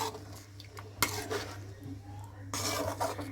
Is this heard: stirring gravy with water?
yes